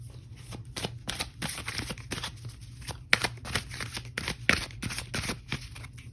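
Oracle cards being shuffled by hand, a steady run of crisp riffling snaps and soft slides close by over a faint low hum, with no talking.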